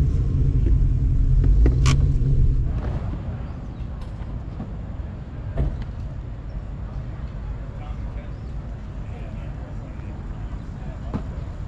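Mustang cars rolling in at the Mustang Alley 2022 car show, with a loud, close engine rumble that fades after a couple of seconds into a softer, steady outdoor hum with faint background sounds.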